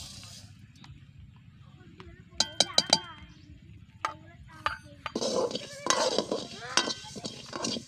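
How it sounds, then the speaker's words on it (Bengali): Raw rice dry-roasted in a pan for a snail curry, heard as bursts of grainy rattling and utensil clinks against the metal as it is stirred, with a low hum underneath. "জমরা ঝালের জন্য একটু চাল ভেজে নিচ্ছি।"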